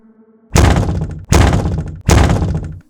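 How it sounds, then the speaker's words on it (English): Three loud, heavy pounding knocks in slow succession, each a booming thud that rings briefly, after a faint low hum. "The knocking turned into a louder pounding,"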